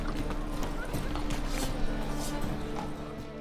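Roach, Geralt's horse in The Witcher 3: Wild Hunt, clip-clops in a steady walking rhythm over a low ambient bed. Speech is heard over the hoofbeats.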